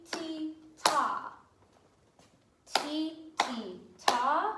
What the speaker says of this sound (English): So I would clap ta, ti-ti, ti-ti, ta